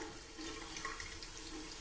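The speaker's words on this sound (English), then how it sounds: "Just rinse the water over them." Tap water runs in a bathroom over a strainer of trapped bees, a steady hissing splash that stays even and fairly soft throughout.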